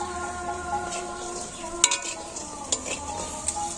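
Lentil dumplings (dal bori) with coriander leaves fry in a pan in a village kitchen, giving a soft continuous sizzle with a few sharp stirring clinks against the pan.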